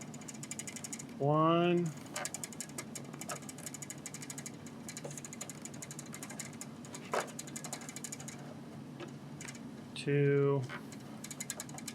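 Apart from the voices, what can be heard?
screwing a model aircraft part back in, ratcheting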